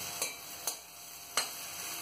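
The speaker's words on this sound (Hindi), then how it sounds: "फिर हम अच्छे से इसको हिला लेंगे, मिक्स कर देंगे।" Sabudana khichdi being stirred in a pan with lemon juice, giving three light scraping taps of the spoon against the pan over a faint steady background hiss.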